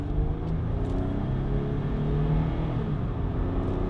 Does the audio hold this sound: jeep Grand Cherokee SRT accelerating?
yes